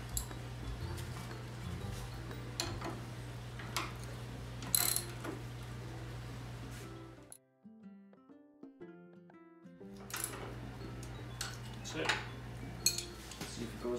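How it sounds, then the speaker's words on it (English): Metallic ratcheting and clinking of a wrench tightening a bolt on a refurbished John Deere 110 model 42 plow, repeated clanks over a steady low engine-like hum, with a brief quiet gap mid-way. "just gonna tighten it back up."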